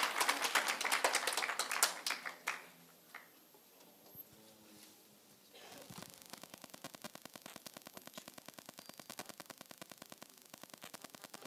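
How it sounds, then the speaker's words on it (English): Applause at a City of Johannesburg skills development graduation ceremony: a burst of clapping opens, fades to a quieter stretch, then steady rhythmic clapping resumes and continues to the end. "A round of applause for Mr. Solani Humphrey."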